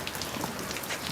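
Steady rain pattering on a surface, an even close hiss with scattered drops and no voices, heard during a Samoan-set fairytale scene.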